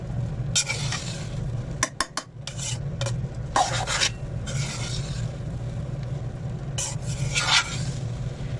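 Fried rice being stirred gently in a pan with black pepper, green chillies and boiled egg, giving repeated soft scraping and rubbing strokes over a steady low sizzle, with no voices.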